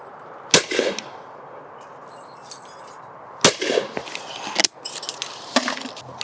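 Browning shotguns fire at clay targets, three sharp loud cracks spaced a few seconds apart, each followed by a short echoing tail, outdoors with no talk.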